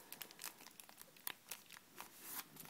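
A trading card pack is cut open, with close, quiet crinkling and snipping of foil wrapper in short bursts and no talk.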